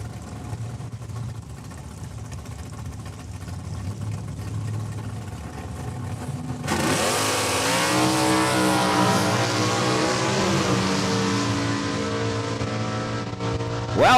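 At a drag strip, a 1969 Chevelle and a Mopar launch together: a quiet distant rumble gives way to a sudden loud, sustained engine roar that climbs in pitch as the cars accelerate away.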